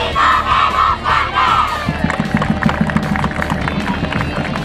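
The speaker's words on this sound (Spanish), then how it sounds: "Nuevamente un fuerte aplauso para Mauricio Viana" A crowd cheering and applauding at a Trasandino football club homage in Los Andes, with loud shouts at first giving way to steady clapping and babble.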